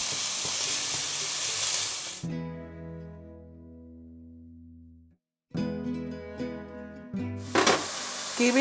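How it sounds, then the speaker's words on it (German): Minced meat frying in a pan for a puff-pastry filling gives a loud, close, dense sizzle that stops abruptly, gives way to sustained tonal music, then returns just as loud near the end. "Und das Hackfleisch lassen wir jetzt etwas anbraten."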